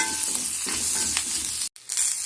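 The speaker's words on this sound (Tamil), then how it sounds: "ஒரு ரெண்டு நிமிஷம் வதங்கட்டும்" Onions, garlic and asafoetida sautéing in a pan, a loud continuous sizzle with a few soft stirring scrapes and one brief cut-out near the end, no talking.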